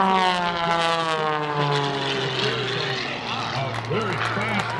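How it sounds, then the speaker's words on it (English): Aerobatic airplane making a low pass over the runway at a small airport air show, its loud engine drone sliding down in pitch as it passes close by, with an announcer talking over it. "Here comes Melissa coming right down on the deck now."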